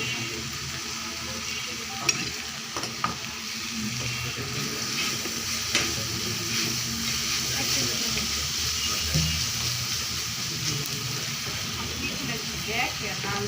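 Garlic, onion and a tablespoon of green chili frying in a pan for a chicken filling; a steady close sizzle with stirring scrapes and a few clacks, a voice talking over much of it.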